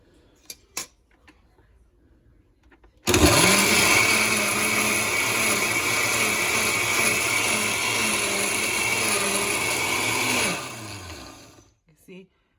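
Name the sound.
blender blending pozole ingredients with the lid on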